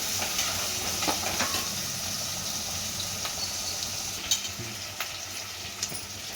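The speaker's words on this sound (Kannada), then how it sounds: "ಕ್ಯಾಪ್ಸಿಕಮ್ಮು ಒಂಚೂರು ಬೇಯಲಿ, ಒಂಚೂರು ಸ್ವಲ್ಪ ಬೇಗ ಫ್ರೈ ಆಗುತ್ತೆ ಕ್ಯಾಪ್ಸಿಕಮ್ಮು." Capsicum fries in a pan for bisibelebath, giving an even, hissing sizzle with scattered light scrapes and clicks of a spoon stirring, fairly quiet and close with no talk.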